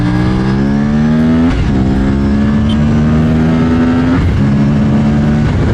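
A 2024 Aprilia RS 457 motorcycle screams along a race track, its engine loud and close as it climbs through revs, with brief dips at gear changes before pulling high again.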